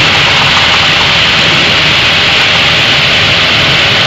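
A Cessna 172 Skyhawk engine at full throttle during takeoff, a loud, constant broadband roar heard from inside the cabin, steady and unbroken throughout.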